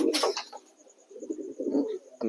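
Fantail pigeons cooing in soft low rolling calls close by, with a sharp burst of noise at the start.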